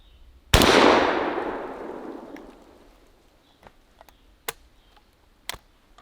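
An old Palmetto shotgun fires once at a steel plate outdoors, a loud sharp blast with a long decaying rumble, followed by a few faint distant clicks and taps.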